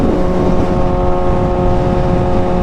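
A motorcycle rides past close and loud, its engine droning steadily with no pauses and heavy wind rumble underneath, on a cool overcast day.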